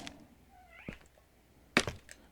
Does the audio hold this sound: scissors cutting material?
no